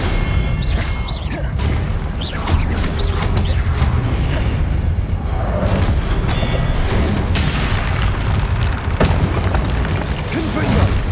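Confringo blasting spells explode again and again in Hogwarts Legacy gameplay, a steady barrage of heavy, booming blasts and crashes that stays loud throughout.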